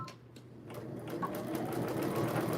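Sewing machine running a short back stitch, its motor whirring in a continuous hum that builds slightly and holds steady, close and fairly quiet with no talk.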